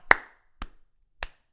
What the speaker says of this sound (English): Hand clap. This kind. Make it loud.